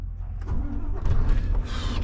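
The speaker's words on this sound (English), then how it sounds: "Truck didn't start then." A truck engine cranks in uneven bursts without catching, heard fairly close amid some background clatter, and never settles into running.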